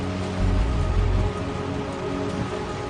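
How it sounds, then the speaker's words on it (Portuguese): Heavy torrential rain pours over São Paulo near Congonhas airport, a dense steady hiss of downpour with a deeper rumbling surge in the first second, filling the whole scene without any voices. "Uma forte chuva cai sobre a maior cidade do Brasil."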